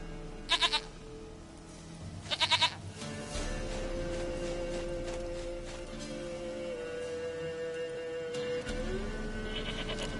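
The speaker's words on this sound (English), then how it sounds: "Goat of mine, dearest, sweetest goat." Goats bleat in The Witcher 3, with two short, close bleats early, then a sustained game ambience and music bed with another bleat near the end, no talking.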